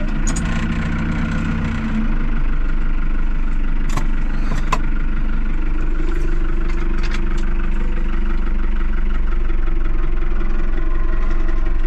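A cold vehicle engine idles steadily and loudly at close range during a pea delivery run, a continuous low rumble with a slight rise in level partway through and no speech.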